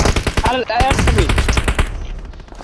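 Rapid automatic gunfire in a shooting video game, a loud close burst of repeated shots with a voice speaking over it.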